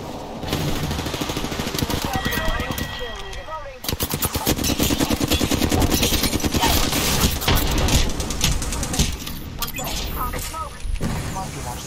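Rapid bursts of automatic gunfire and single shots in a shooter video game firefight, dense and continuous for most of the stretch with a brief lull near the start, mixed with game effects.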